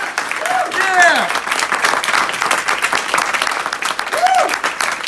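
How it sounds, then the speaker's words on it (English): Loud audience applause fills a hall after a political speech about the European Union, with excited whoops and cheers rising over the dense clapping throughout. "give the people that have created the European Union to the point where it is now, the loudest applause you have ever given anyone"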